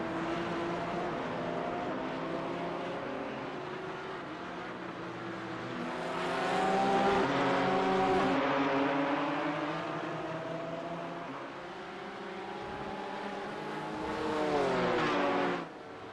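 Race cars in a sim racing game, in a community cup event: steady engine drone with layered harmonic whine, rising as revs build around mid-run, easing, then climbing again in a brief loud surge before cutting back.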